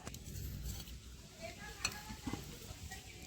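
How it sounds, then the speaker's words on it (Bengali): Dry fruits such as cashews frying and being stirred in a pan for Eid jorda shemai, with a soft, steady sizzle and a few light clinks of a utensil against the pan. "এর মধ্যে ড্রাই ফ্রুটসগুলো ভেজে নেব"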